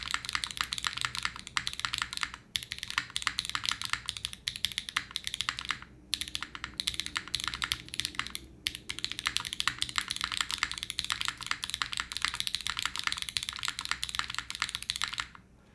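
Rapid continuous typing on a mechanical keyboard with a deeper spacebar, dense close-up key clatter with brief pauses, less bright and poppy than lighter boards, with no talking.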